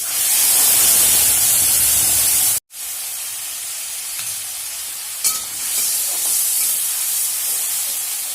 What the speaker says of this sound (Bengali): টমেটোটাকে একটু ভালো মতন ভেজে নেবো যেন এটা কাঁচা গন্ধটা চলে যাও